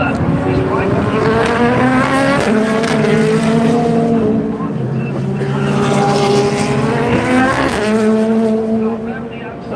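Loud GT race cars, including a BMW, howl around the Daytona circuit during the Rolex 24, engine pitch climbing and dropping with shifts while an announcer talks over the racket.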